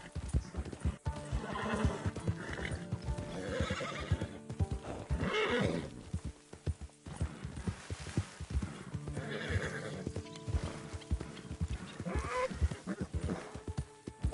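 A horse in the video game Red Dead Redemption neighs loudly several times over busy clip-clopping hooves, the snorts and whinnies repeating close throughout.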